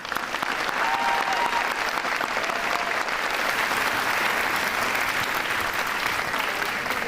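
Loud, dense applause from a large crowd continues without pause, a steady wash of clapping with a brief voice faintly audible early on.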